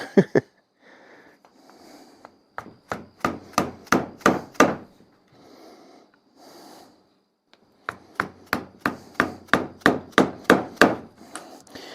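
Steady rapid hammer blows on wood while building a spring pole lathe, in two bursts: a quick run of strikes, a pause with faint rubbing, then another even series of close, sharp knocks.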